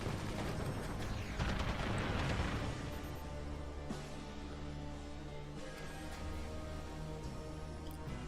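Mortar fire in a strategy video game, a rumbling barrage of distant thuds and bursts that is densest early then settles into a steady rolling din with occasional sharper impacts, faint overall.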